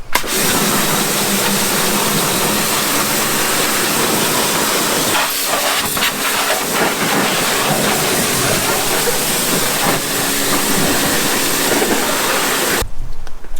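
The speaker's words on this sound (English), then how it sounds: "I blasted all the water out of here with the blaster." A loud, continuous high-pressure water blaster spray hisses without letup, then cuts off abruptly near the end.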